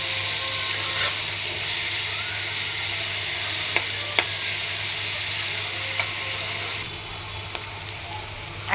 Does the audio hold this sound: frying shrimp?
yes